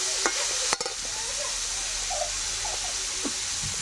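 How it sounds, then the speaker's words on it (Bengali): Chopped vegetables are stirred in a hot pan for chicken vegetable pasta, giving a steady close sizzle with a few sharp spoon clicks and scrapes. "একটু নাড়াচাড়া করে নেব।"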